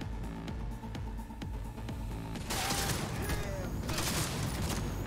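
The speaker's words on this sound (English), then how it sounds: "I did not expect this to be a big gunfight." Gunfight in the video game Cyberpunk 2077: dense, continuous rapid gunfire and booming shots fill the whole stretch, growing louder and busier in the second half, with a voice faintly present underneath.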